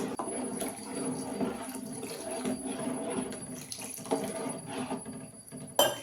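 Water is poured into a pot of cooking tamarind stew, a soft, steady splashing and trickling that runs quietly for several seconds and ends with a brief clatter.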